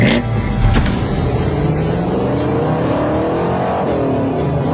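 Synthetic Mustang-style engine roar from an electric car's paid sound package, a loud sustained revving rumble that rises in pitch, with no talk.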